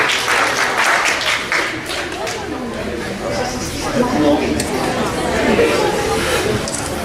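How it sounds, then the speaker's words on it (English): A team being given a big round of applause at a Monokuma Mystery event: dense, sustained clapping from an audience mixed with crowd chatter and cheering, loud and continuous throughout. "let's have a big round of applause for this team"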